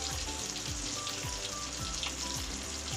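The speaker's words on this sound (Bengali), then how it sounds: "আর এখানে মাছ ভাজা হচ্ছে," Fish fries in hot oil in a pan, a steady, close crackling sizzle with faint repeated tapping underneath, with no talk.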